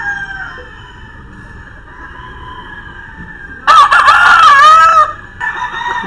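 A white Kelso rooster, a gamefowl breed, crows once loudly and close by, a strong ringing cock-a-doodle-doo of about a second and a half rising out of quieter farmyard ambience with a steady background hum.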